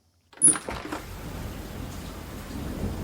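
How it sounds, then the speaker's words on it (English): Rain falls steadily and fairly loud after a sudden onset, with a sharp early burst settling into continuous pattering on surfaces, no voices heard. "Oh, it's raining."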